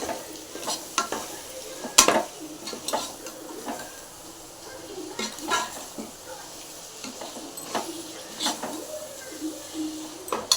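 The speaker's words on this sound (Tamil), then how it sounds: "தக்காளி நல்லா வதங்கணும்" Tomatoes being sautéed in a pan for homestyle Indian chicken biryani: soft frying sizzle with repeated scraping stirs and a few sharp utensil clinks against the pan, close and moderately quiet, no talking.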